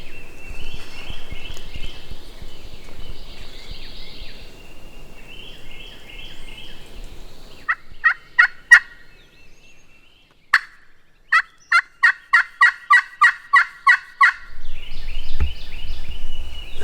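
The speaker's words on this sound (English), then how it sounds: "If he keeps gobbling, it's probably not a good thing." A wild turkey gobbles on Alabama public land, sounding as several sharp, quick rattling bursts at middle distance between stretches of quiet outdoor background, with a run of rhythmic clucks and footfalls near the end.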